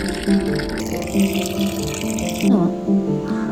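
Water is poured into a clay pot holding coriander, a splashing, gurgling pour that runs on and off, with a low tonal hum in the background.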